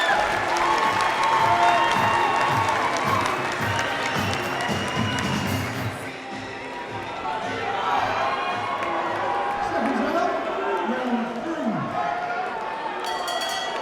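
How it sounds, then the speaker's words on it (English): Vocal crowd at an English cruiserweight title boxing bout, cheering and applauding loudly and steadily throughout, with a commentator speaking over the din. "Very well vocal crowd from JUMAH's team."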